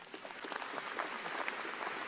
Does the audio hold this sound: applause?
yes